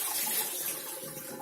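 Water pours from the tank of an Osmio Zero reverse osmosis system into a sink, a steady, close splashing rush that continues throughout with no talking.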